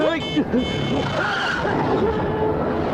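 A car brakes hard and skids on a road, a close tyre squeal with engine noise, while people speak over it.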